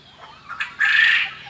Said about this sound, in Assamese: এইবিলাক বটা চৰাই জাপানিজ কয়েল বাৰ্ড